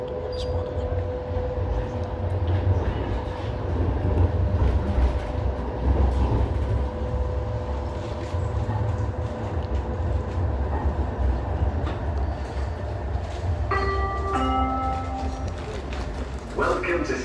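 A Sheffield Stagecoach Supertram on the blue route between Castle Square and Hillsborough runs with a steady, close rolling rumble and a hum, and a short ringing bell chime sounds near the end.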